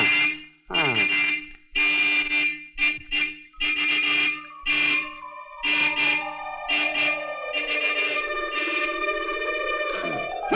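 Loud vehicle horns honk in a rapid series of short blasts, then one long tone slides down in pitch.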